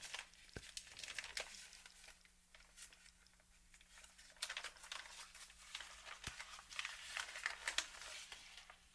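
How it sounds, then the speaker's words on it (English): A factory-wrapped Tamron 17-28mm F/2.8 camera lens being unwrapped, with close, quiet crinkling and tearing of plastic wrap in irregular bursts, plus a couple of small taps. "We have a factory wrapped lens, got our instruction packet, and we will unwrap this lens"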